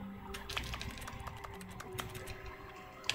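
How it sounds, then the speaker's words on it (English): Keyboard-like clicking sounds from walking and left-clicking in The Stanley Parable video game: irregular, crisp taps scattered over a faint steady background tone. "When I'm walking around and I left click, it sounds like I'm tapping a keyboard"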